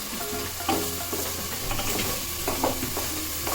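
Ginger garlic paste fries in a hot pan, sizzling steadily and close up, with spoon stirring and scraping against the pan in irregular bursts; no voices.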